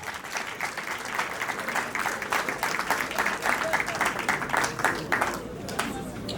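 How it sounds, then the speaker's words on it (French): Audience applause at a wedding gathering, a sustained round of clapping from a moderate crowd, fairly close and even before tapering slightly at the end. "Sous vos applaudissements, s'il vous plaît."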